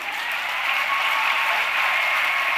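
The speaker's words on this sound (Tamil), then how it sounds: "எனவே அந்த சகோதரிக்கு மீண்டும் ஒரு முறை கைத்தட்டுங்கள்." A large audience applauds someone speaker at a Women's Day celebration, giving steady, dense, continuous clapping that fills the hall with no voices.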